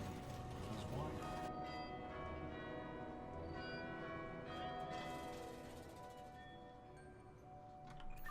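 Church bells ring in the video game We Were Here, a sustained metallic clang with long ringing overtones that swells and slowly decays over several seconds, with a voice talking over the tolling.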